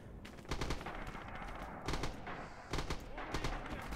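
Red Orchestra 2 battle gunfire: dense, steady rattling of rifle and machine-gun fire with heavier bursts every second or so, filling the whole span at moderate loudness without talk.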